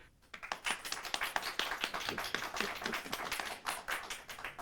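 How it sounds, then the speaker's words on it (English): Small workshop audience clapping for an animated show pitch, a close, uneven patter of individual hand claps with distinct sharp hits, moderately loud and lively throughout. "We're gonna get some applause."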